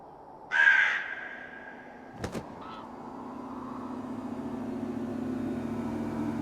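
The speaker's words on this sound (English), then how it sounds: "Another crow?" A crow caws loudly once in a video game mystery scene, a harsh burst followed by a fainter call, over a low ambient hum.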